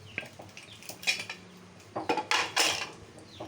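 Boiled eggs are lifted out of a metal pressure cooker in a home kitchen, with scattered sharp clinks and clatters of utensil against pot, a few louder knocks clustered near the end.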